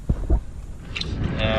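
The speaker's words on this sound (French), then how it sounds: "Le vent commence à se lever" Wind rushes over the water and buffets the microphone during kayak fishing for lake trout, a steady broadband roar after a couple of brief thumps, close and continuous.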